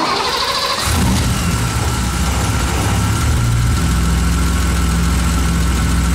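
A car engine cranks briefly, catches and settles into a steady, fairly loud idle close by, with no talking during the run.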